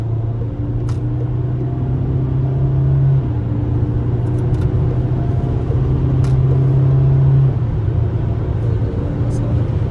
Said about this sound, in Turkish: Şimdi arkadaşlar dip gaz yaptım. Hemen vites düşürdü.